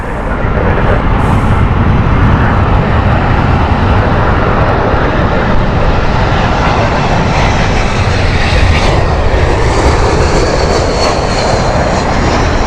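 Passenger airliner arriving from Prague at London Heathrow Airport on a windy day, a loud, steady roar of aircraft engines filling the whole stretch, close and continuous with wind noise over it.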